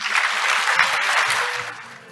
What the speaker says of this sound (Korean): 많은 박수로 환영 부탁드리겠습니다.